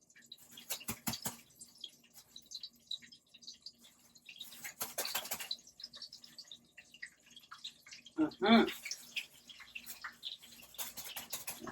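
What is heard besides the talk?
chicken frying in hot oil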